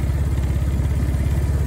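A motorcycle running on a lithium iron phosphate battery at about 10°C idles steadily up close, with a continuous low, even engine throb and light mechanical clatter throughout.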